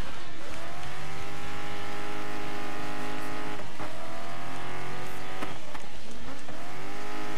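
Race car engines roar in the video game Dirt 5 during a night rally in Norway, several harmonic engine tones rising and falling with repeated gear shifts, loud and continuous, with tire noise and no talking.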